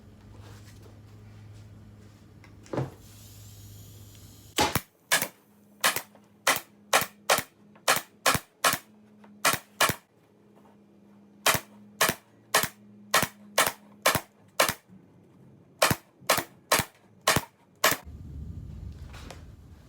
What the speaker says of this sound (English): make sure that you're using 3/8 inch staples so that it will go through this tack strip, the fabric, and the other tack strip and into your wood